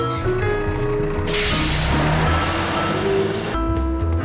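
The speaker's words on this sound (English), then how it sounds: "Well, the garbage truck came." Garbage truck in a children's cartoon pulling up, a loud engine rumble and hiss with repeated reversing beeps at the start and again near the end.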